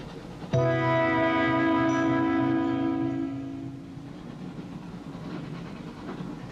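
Train running on rails heard from inside a carriage, a loud sudden onset of a whistle-like harmonic tone over rumbling wheels that fades after a few seconds into a steady lower clatter.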